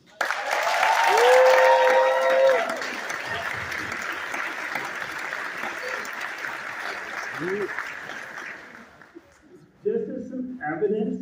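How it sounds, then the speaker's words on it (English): Applause and cheering for middle school students at a school ceremony, a loud burst of crowd clapping at the start that fades under a speaker's voice, with talking continuing afterward. "We're cheering for the students."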